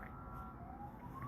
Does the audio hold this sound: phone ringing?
no